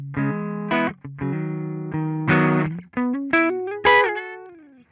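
Clean electric guitar notes and chords through a Line 6 HX Stomp with a classic Fender-type tone and no reverb ring out one after another, bright and close, with little distortion and no other sounds.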